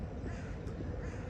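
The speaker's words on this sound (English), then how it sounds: "Look at these birds. These are cousins of Gregor the Crow." A crow caws once or twice in a Vienna street, faint beneath loud, steady outdoor rumble and wind noise.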